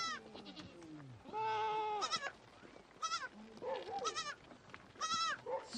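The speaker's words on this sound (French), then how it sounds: "100 chèvres et 80 moutons, c'est toute sa richesse" A herd of goats and sheep in Morocco's Atlas region bleats in overlapping, wavering calls, some near and loud, others farther off, several animals calling one after another with no talk.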